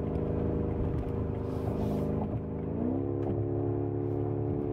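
A BMW M5 with a torque converter automatic driven in manual paddle-shift mode on a wet, slippery day: a steady engine drone that briefly dips, then picks up again with a rising pitch, with no talk.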